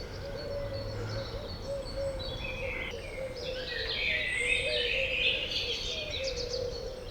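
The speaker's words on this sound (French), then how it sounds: "je ne sais pas si vous entendez tous les oiseaux là" Several birds chirp and trill in the background over a steady outdoor hum near Brantôme in the Périgord, their calls overlapping and fairly faint.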